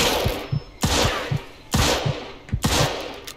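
Gunfire in Mafia II Definitive Edition comes as four loud, sharp shots spaced about a second apart, each with a quieter snap and thud trailing it, close and punchy with no voices.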